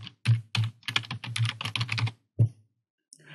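Close, crisp keystrokes on a computer keyboard as a project name is typed, a quick irregular run of clicks ending in a couple of separate taps.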